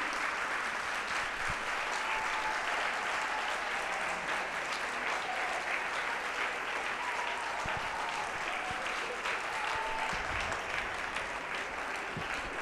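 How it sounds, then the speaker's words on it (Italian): Loud, sustained audience applause fills the hall at an event with a priest host, a dense steady wash of clapping hands that continues throughout without a break. "padre Francesco Biondolillo, prego, accogliamolo con un grande applauso."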